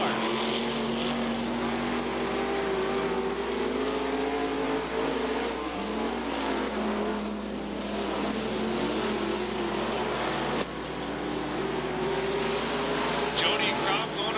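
Dirt track race cars at Gallatin Speedway in Belgrade, Montana, roar as they accelerate out of a corner. The dense, overlapping engine drone carries steadily throughout, with shifting pitch as the cars pass.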